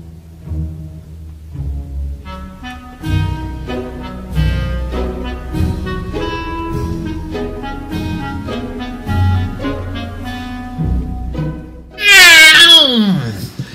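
A cat meows in a run of drawn-out, tonal calls over about twelve seconds, close and clear, ending in one loud, high, sweeping wail; some calls blur into a rougher caterwaul.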